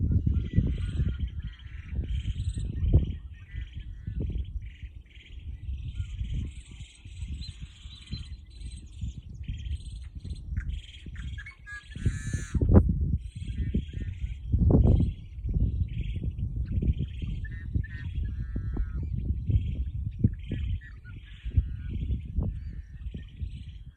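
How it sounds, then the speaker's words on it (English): Wetland birds chirp and call in several scattered, fairly faint bursts, set against steady low outdoor rumble and wind noise. "share some of the bird song"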